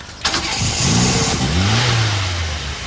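A cold car engine with a flooded carburetor is started close by: a short crank, then a rough, loud catch that revs up and settles into a strained, uneven running drone. No one speaks.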